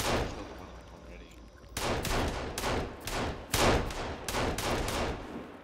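Repeated pistol gunshots in the video game Sons of the Forest fired in a cave during a monster fight, about seven sharp loud bangs at irregular intervals over muffled ambient noise.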